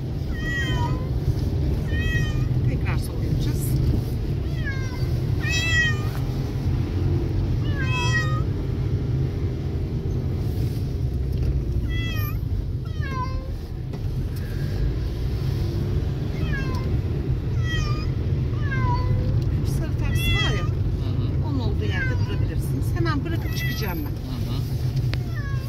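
Repeated cat meows, several cats crying out at intervals over a steady low engine rumble, with occasional talking in the background.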